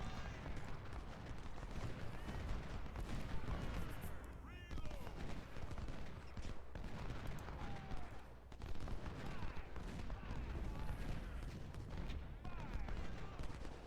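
Continuous musket volley fire and scattered gunshots crackle across an Ultimate General: Civil War battle at Shiloh, dense and sustained throughout with a brief lull midway, with talk mixed in.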